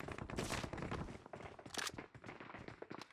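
Bursts of M16 rifle gunfire in the mobile battle royale game PUBG Mobile, a rapid crackling volley of shots clustered over a few seconds, fairly close and loud with no talk over it.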